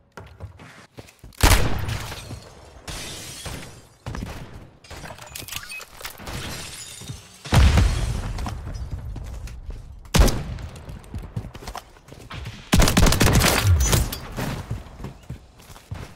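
Auto shotgun blasts in a video game come in sharp, loud bursts spaced a few seconds apart, with footsteps and game ambience in between.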